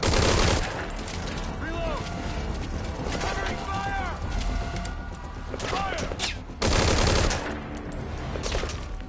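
Heavy gunfire in Metal Gear Solid 5, with dense, loud volleys and rapid shots running through the whole stretch and bursts of action overlapping.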